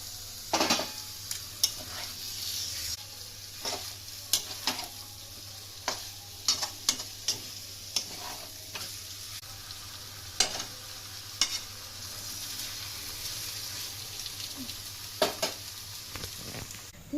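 Large chicken pieces for biryani sizzle steadily in a pan, with a spoon scraping and clinking in sharp, irregular stirs and no talk.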